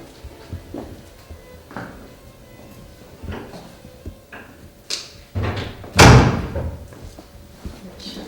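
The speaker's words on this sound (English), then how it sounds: "Got all the doors closed." Doors close one after another inside an old French manor. Soft knocks and latch clicks lead up to a couple of heavier thuds and a final loud slam nearby, with faint voices in the background.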